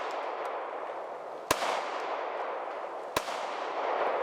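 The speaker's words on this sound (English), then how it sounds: "I just shot 30 rounds through this." Two sharp gunshots, about a second and a half apart, cut through steady wind and outdoor hiss from a handgun run on canola oil as lubricant during a 30-round test at the range.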